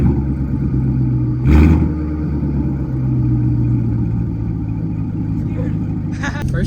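A rebuilt Corvette Grand Sport with new radiators runs on its first drive on a main road, its engine holding a steady droning hum with one brief louder surge, while people talk over it.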